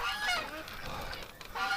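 Domestic ducks in a metal winter shed call and honk in a busy overlapping chorus, loud and close, with harsh repeated quacks rising and falling throughout.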